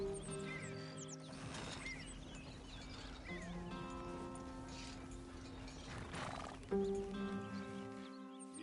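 Horse riding in the video game Red Dead Redemption 2, with a horse neighing and whinnying over soft hoof clip-clops and faint tack rattles, moderately quiet, with no speech.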